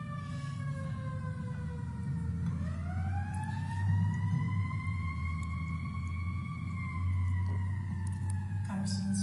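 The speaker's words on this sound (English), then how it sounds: "we have a siren again." An emergency vehicle siren wails faintly in the distance, its rising and falling tones sweeping over a steady low background hum during a remote courtroom hearing.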